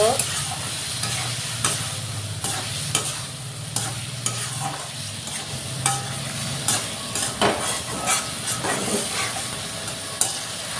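Tomatoes being stirred and fried in a pan for a Bengali chitol fish curry with potatoes, with a steady sizzle under repeated scraping clicks of a spoon against the pan, close and moderately loud, no talking.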